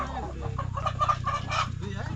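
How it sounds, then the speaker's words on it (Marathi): Country chickens in a coop at a village market cluck and murmur steadily up close, with a low continuous hum of the surroundings beneath them. "गावठी कोंबड्याचं खुराड आहे."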